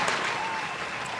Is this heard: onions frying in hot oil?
no